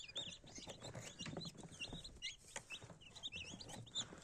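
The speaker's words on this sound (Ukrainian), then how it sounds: "Ось така в нас ціла величезна коробка курчаток малюків." Many newly hatched chicks, crested and non-crested, peep and cheep constantly in a high-pitched, overlapping chorus, close up in a big box, with faint rustling beneath.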